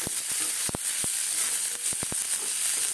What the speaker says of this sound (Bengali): এগুলোকে সুন্দর করে ভেজে নিতে হবে।